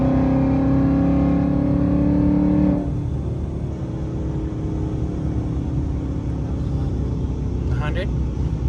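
An 800-horsepower Ford Mustang accelerates hard in third gear with a strong engine drone heard from inside the cabin, easing after a few seconds into steady road rumble while people talk.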